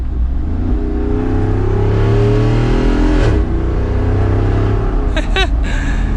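2021 Jeep Wrangler Rubicon 392 driving with the performance exhaust off, a loud steady engine drone under acceleration, rising in pitch and then easing at a gear change.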